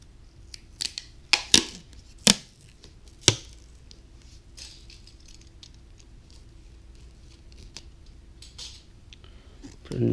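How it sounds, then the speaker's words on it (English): Sharp crackling rips and snaps of tape being pulled and pressed over wires near a speed controller, a few loud bursts early then quiet handling noise, no talk. "Put some more tape over by the ESC."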